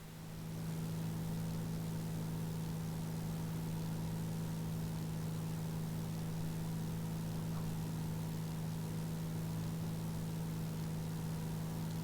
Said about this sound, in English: I want you to be able to hear the engine sounds.